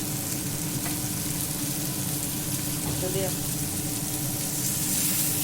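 Paneer with black pepper, chilli powder and a little sugar sizzles steadily in a pan while being stirred, a continuous frying hiss with occasional spoon scrapes, close and fairly loud.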